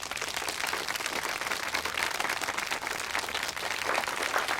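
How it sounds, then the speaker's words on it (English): A crowd at a city mayoral debate keeps up dense, steady applause that fills the hall evenly throughout, with almost no voices over it. "Folks, please, hold your applause until after the round of questions is over."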